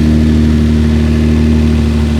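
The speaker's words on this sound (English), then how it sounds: "I know it's a little loud because the exhaust." Loud, steady exhaust drone from a 2000 Toyota Camry Solara engine with a broken flex pipe, running close up with a strong low hum and no voices.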